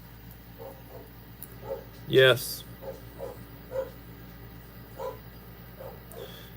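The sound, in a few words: dogs barking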